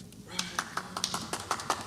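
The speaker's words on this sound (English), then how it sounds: "Here is a knocking indeed" Sharp knocks land on a wooden door in a Macbeth radio play, a series of roughly evenly spaced raps heard fairly close over a quiet, faintly humming background.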